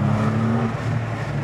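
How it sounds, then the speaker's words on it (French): A used Porsche 911 engine pulls steadily under gentle acceleration, a close, continuous low growl with a constant hum, no voices over it. "Allez, hop, accélérons un petit peu puis on tournera à gauche."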